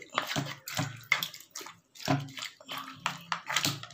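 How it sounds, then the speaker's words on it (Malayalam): Water is poured into a pot of beef kurma, giving a series of close, splashy bursts and sloshes with short pauses between them and no talking. "നമുക്ക് വെള്ളം ഒഴിച്ച് കൊടുക്കണം"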